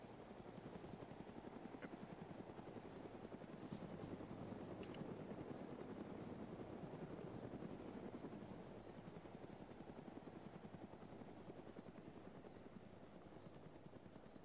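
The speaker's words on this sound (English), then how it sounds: "we got fucking helo inbound" A helicopter flies inbound during a military recon exercise. Its rotor drone is faint and distant, holding a steady, continuous buzz throughout with no voices.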